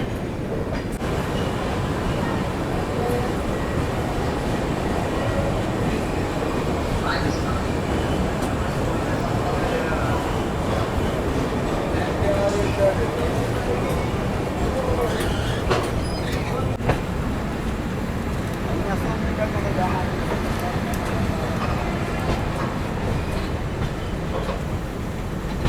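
Sanghamitra Superfast Express, train 12295 between SMVT and BZA, running after departing Gudur: a steady loud rumble of carriages on track with faint rail clatter throughout, heard from on board.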